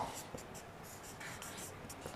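A pen writing out the factors of 28 by hand during a maths lesson: faint, continuous scratchy strokes on paper against a soft background hiss.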